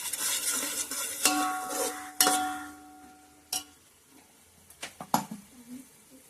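Chicken goes into a fried onion-tomato masala, with several sharp metallic clanks of a spoon against the pot and bursts of sizzling and stirring, quieter gaps between the hits.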